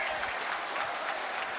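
A rugby crowd at a 2007 Heineken Cup quarter-final between Scarlets and Munster cheers and applauds after a long kick, a dense, steady wash of clapping and roaring close at hand, with no break.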